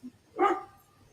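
Outdoors in a yard, a dog gives one single bark, short and middle-distance, after a brief faint sound and before a quiet tail, with nobody talking.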